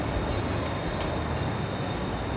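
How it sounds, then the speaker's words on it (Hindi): A Bangkok metro train passing by a station amid city noise, a steady broad rumbling roar that holds evenly throughout, with a faint high whine on top and no talking. "ये मेट्रो स्टेशन है। वो जो ट्रेन जा रही है"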